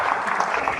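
A dense, brief burst of steady clapping from an audience at a graduate student conference, close and fairly loud with no voices over it.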